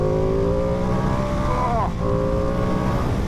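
A 2025 Ducati Panigale V2S sports bike engine pulls hard under acceleration, a loud, close, rising drone that dips briefly as it shifts, then climbs again.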